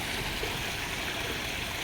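Water from a koi pond filtration system pouring back into a waterfall, a steady close rushing splash with no pauses.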